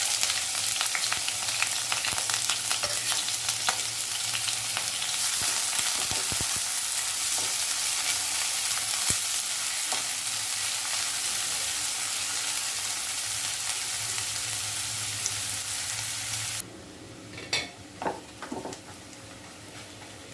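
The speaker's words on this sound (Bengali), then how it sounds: "তেল গরম হয়ে গেছে, পেঁয়াজ কুচি দিয়ে দিচ্ছি।" Chopped onion frying in hot oil in a wok, a loud dense crackling sizzle that carries steadily for most of the time, then drops suddenly to a quieter hiss with a few stirring scrapes.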